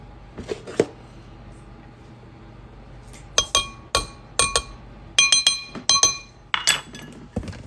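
A spoon mixes half a tablespoon of cornstarch in a glass, giving bright clinks: a couple early, then a quick run of repeated sharp taps against the glass in uneven rhythm, close and clear.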